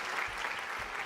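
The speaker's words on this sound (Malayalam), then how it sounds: "ഒന്ന് കൈയടിച്ചേ" Applause from a TV game-show studio audience: steady, moderately loud clapping throughout, with no other sound standing out.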